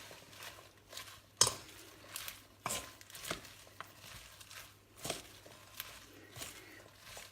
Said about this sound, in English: I'm going to try and mix this all in with the guacamole.